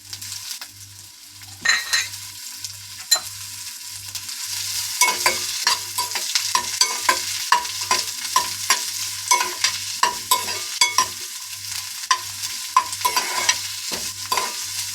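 Onion pieces sizzle in hot oil in a pan, with a steady fry hiss under frequent scraping strokes of a stirring spoon and a low regular hum running beneath.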